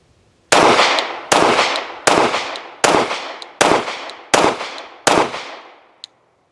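Seven evenly spaced shots from a Glock Model 47 pistol, each a loud, sharp report with a brief ringing decay, fired at a steady rhythm outdoors, followed by a faint metallic click.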